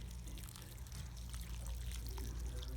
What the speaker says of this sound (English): once you get this planted, you're going to have to add water